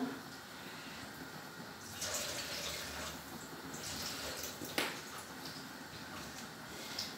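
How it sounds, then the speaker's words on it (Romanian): Cold water runs from a tap into a pot, a steady rushing splash with a few brief clanks partway through. "scurg un pic de apă rece, mai punem o apă"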